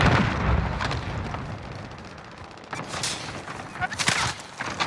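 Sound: cluster strike explosions in Call of Duty: Warzone video game

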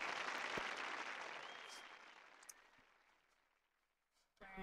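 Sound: applause in the video game Frog Detective 3

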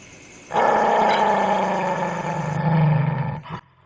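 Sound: dog growling and barking

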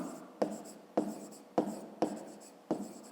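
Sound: writing on paper

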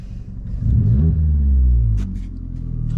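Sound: Vauxhall Corsa engine over-revving with throttle controller

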